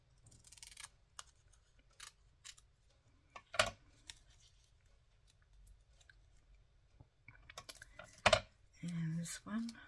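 Scissors snip paper holly while trimming it for a vintage Christmas card, sparse close crisp cuts and rustles in a quiet room, with a brief low voice near the end.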